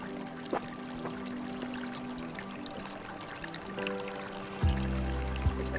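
River water at the Amanaderos springs, reappearing between rocks on a dry riverbed, pours and trickles steadily at close range, with a few louder splashing surges near the end and no talking.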